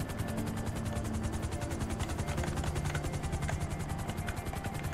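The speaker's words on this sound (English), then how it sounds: "At least it's not too far a helicopter ride." A helicopter in GTA 5 Online flies along, its rotor thumping in a steady, rapid chop with a continuous engine whine, quite faint and alone, no voices.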